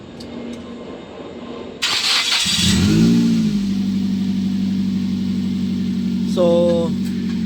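A Mazda 3 engine starts after a drive belt and tensioner repair, then settles into a smooth, steady idle close by. A brief chirp or whine rises near the end, and someone talks briefly.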